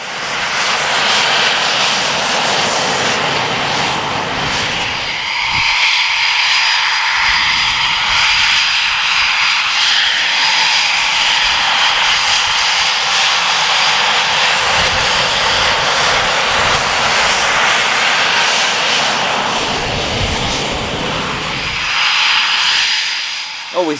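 Eurofighter Typhoon jet doing a performance takeoff at RAF Coningsby, a loud, sustained roar of engine thrust filling the whole stretch, with a steady rumble and hiss that swells slightly toward the end.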